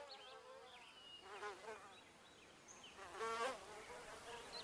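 Wasps buzz close by in China, their whining hum rising and falling as they move around, with louder swells at times and no voices.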